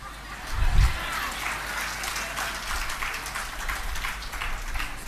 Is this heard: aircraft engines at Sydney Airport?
no